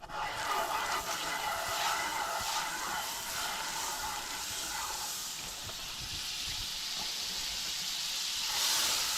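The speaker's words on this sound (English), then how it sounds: "Throw another stick of butter in there." Butter sizzling and hissing steadily in a hot pan while deer heart cooks, a continuous close frying crackle with no pauses.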